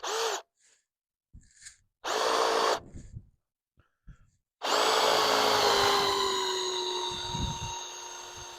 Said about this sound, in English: That's where we're going to drill our hole